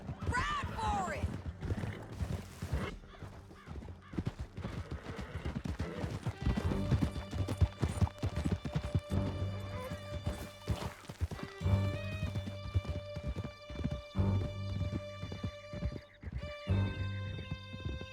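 Horses galloping in the video game Red Dead Redemption 2 during a canyon chase, with steady rapid hoofbeats running throughout under a tonal musical score and occasional shouted talk.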